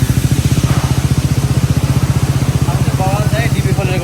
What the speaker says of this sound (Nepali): बाइकको साउन्ड